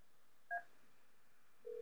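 Extension 1001 dialed on an IP PBX test phone: a short pair of DTMF keypad beeps, then after a pause a steady tone begins, quiet and close with no talk.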